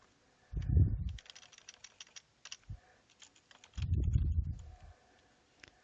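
Keys click on a computer keyboard in short quiet runs, broken by two heavier, muffled thumping bursts, close and alone with no voices.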